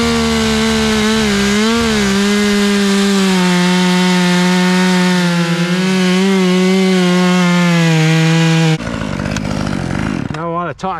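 A Husqvarna 540XP chainsaw cuts through pine wood, a loud close high-revving buzz with shifting pitch as the chain bites, then the engine drops and sputters near the end.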